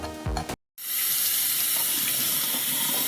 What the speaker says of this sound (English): So we are about to wash the lentils.